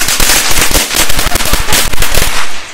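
Large Diwali firecrackers bursting in a dense, loud rapid string of sharp cracks and bangs, continuous for nearly three seconds before cutting off.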